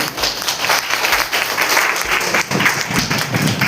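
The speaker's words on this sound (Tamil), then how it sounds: "அதுக்கெல்லாம் ஜோராக கண்டிப்பாக கைதட்டு." A crowd at a public signature-campaign event about auto-rickshaw meters claps loudly and continuously, a thick, close roar of applause with no break.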